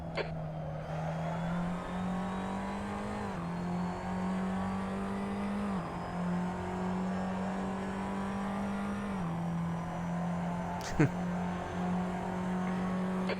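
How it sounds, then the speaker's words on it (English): A Tatuus FA01 formula race car in a racing sim at Silverstone National holds a loud, steady high-rev engine drone throughout, with slight pitch dips and a sharp click near the end. "rev limiter didn't like that"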